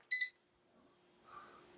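A digital wall clock with a large 13.7-inch display gives one short, bright electronic beep, then faint quiet hum and a soft later tone; close and alone.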